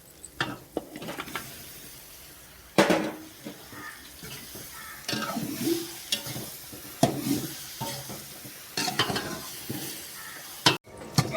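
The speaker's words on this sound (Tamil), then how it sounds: "நல்லா இந்த அளவுக்கு வணங்கினதுக்கப்புறம் காளான் போடுறேங்க." Mushrooms and cashews frying in a pan for mushroom biryani, a steady close sizzle with irregular stirring scrapes and clatters of the spoon against the pan, with no speech.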